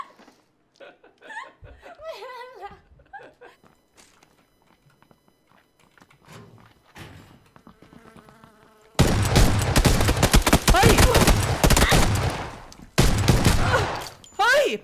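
Loud bursts of video game gunfire with shotgun blasts erupt midway and continue densely to the end, after a quieter opening with scattered sounds and laughter.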